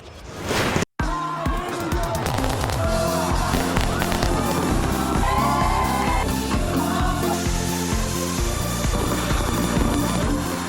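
Dense New Year fireworks display on Boracay island with repeated bursts and booms over a continuous crowd roar and music-like tones, loud and sustained throughout.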